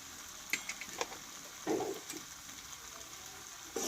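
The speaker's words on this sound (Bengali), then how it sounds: "আবারও আমি কিছুক্ষণ আমি নাড়াচাড়া করে নেব এই মশলাটা দিয়ে আমি আরও দু মিনিট মতো ভালোভাবে কষিয়ে নেবো" Jackfruit frying with ground coriander, cumin, turmeric and salt in a pan, a soft continuous sizzle broken by a few quiet scrapes and stirs of a spoon.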